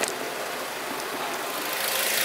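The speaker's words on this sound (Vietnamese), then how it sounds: "Máy êm ru luôn, máy rất chất." A Ford Escape with automatic transmission idles in its engine bay, giving a smooth, steady engine hum with airy broadband noise that holds evenly throughout.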